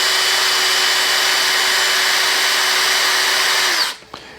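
Power drill spinning steadily while polishing a part of a 1974 Honda CL450 motorcycle, a loud, even whine held for about four seconds before it cuts off abruptly, followed by a small clunk.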